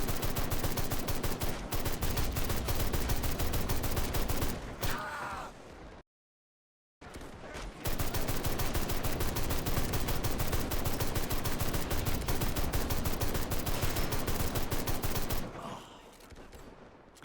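Dense machine gun and rifle fire in the WW1 battle game Great War Realism Mod, continuous loud rattling volleys broken by a brief silence, with distant shouts.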